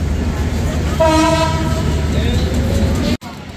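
The Sundarban Express sounds its horn in a loud, sustained blast as it pulls out of a station after a two-minute stop, over heavy rumbling train noise that cuts off abruptly near the end.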